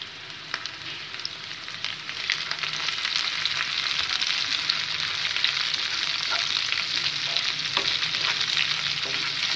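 Steady, loud sizzling of leaves frying in hot oil, a continuous crackling hiss that swells slightly after the first couple of seconds.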